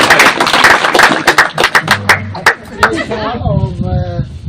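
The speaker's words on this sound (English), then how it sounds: "A clap for them. Clap for them." A school audience at a charity event in Laikipia claps in short bursts of sharp, close hand claps, mixed with a loud voice speaking over them.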